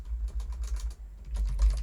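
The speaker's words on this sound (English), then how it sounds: "We're going to type in customers," Typing on a computer keyboard gives two close bursts of rapid key clicks separated by a brief pause, with a low hum underneath and no voice.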